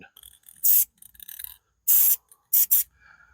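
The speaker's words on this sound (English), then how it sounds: "first we're going to try number 1, which is high output" Four short, loud hissing bursts of a Rust-Oleum spray paint can on its high-output setting, the longer ones first and then two quick ones close together, with faint rustling in the gaps.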